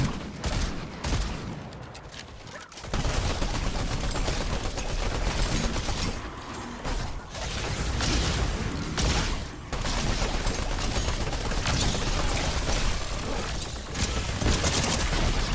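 In Fortnite, players fire at a boss. Dense, rapid gunfire bursts form a loud, nearly continuous barrage with brief dips, and no one talks.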